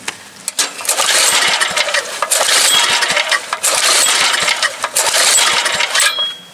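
A Troy-Bilt rototiller engine cranked repeatedly to start on gas and brake cleaner, with sustained loud mechanical whirring in long pulls and brief pauses between them, close by, never catching.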